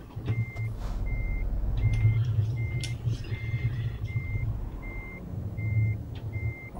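A Scania 360 truck hauling double trailers backs up in Euro Truck Simulator 2, its steady reversing beeper repeating evenly over a low, loud engine rumble.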